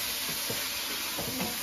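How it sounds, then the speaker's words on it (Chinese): Pig blood stir-fried in a wok, a steady broadband sizzle and hiss with a few soft scraping stirs of the spatula, close and even throughout. "炒猪血"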